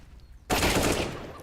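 A sudden, loud burst of gunfire in Counter-Strike: Global Offensive starts abruptly after a short quiet moment, then rings out and slowly decays.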